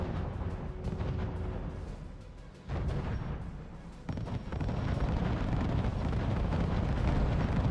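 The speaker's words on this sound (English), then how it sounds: "now he's bombing the HQ back here" Bombers striking a headquarters in the strategy game RUSE, heard as a dense, continuous rumble of explosions and booming impacts with sharp onsets partway through, loud and unbroken, with no talking.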